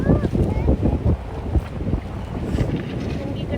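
A boat ride on open water, with a constant rushing wash of water and heavy wind buffeting the microphone, while people talk over it.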